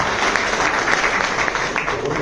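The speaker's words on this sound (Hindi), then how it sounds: "चल ताली हो जाए सर के लिए" An indoor audience applauds for a man among them, a dense, steady burst of clapping close up that lasts a couple of seconds with no talk over it.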